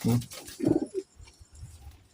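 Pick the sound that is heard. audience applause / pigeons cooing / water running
pigeons cooing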